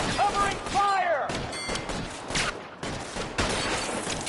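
Video game gunfire crackles in scattered bursts of rapid shots and thuds, layered with whooshing effects and sharp mechanical clanks, fairly close and loud with no voices.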